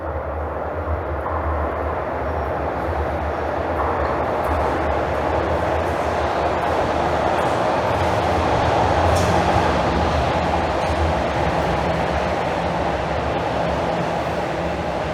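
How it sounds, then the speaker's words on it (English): A southbound TTC Line 1 subway train rolls into Highway 407 station in Toronto, a loud, steady rumble and roar of wheels on rails that swells slightly as it arrives. "And here rolls a southbound train in."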